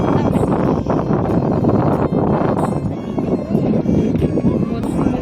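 Wind blowing outdoors beside a big pond, a steady, loud gusting roar buffeting the microphone for the whole stretch with no pauses.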